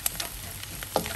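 Garlic sizzles and fries in a hot pan for fried quinoa, with a steady crackle and a few sharper pops and stirring scrapes, close and alone.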